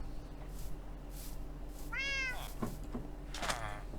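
A cat named Princess Cat meowing twice in a row, a drawn-out close meow followed by a shorter one, over quiet room noise with faint background hum.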